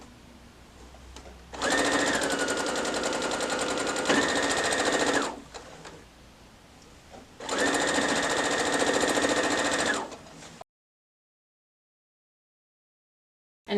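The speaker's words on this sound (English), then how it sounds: "So now that we've pinned these, we're just gonna sew these on." A sewing machine stitches quilt rows together in two long steady runs of fast, even mechanical whirring, loud and close, with a brief pause between and silence after.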